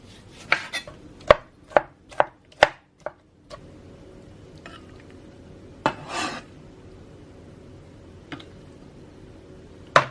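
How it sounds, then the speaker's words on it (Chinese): Tomatoes are chopped finely with a knife on a board in a quick run of sharp, close knocks, then a pause and a few scattered cuts over a quiet room. "西红柿要切的比较碎一些"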